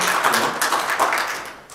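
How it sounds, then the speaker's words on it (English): A press conference audience at an aviation event in Friedrichshafen applauds a panel member with a brief, dense round of clapping, moderately loud, tapering slightly at the end. "You can give him an applause."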